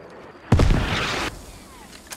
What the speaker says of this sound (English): Oh, that's artillery.